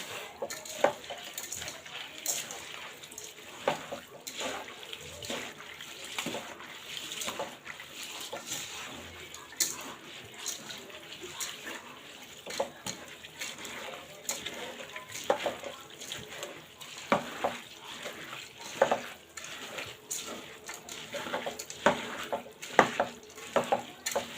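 Oil fries and sizzles in a pot of vegetable khichuri, a quiet steady crackle punctuated by stirring scrapes and soft clinks of a utensil against the pan.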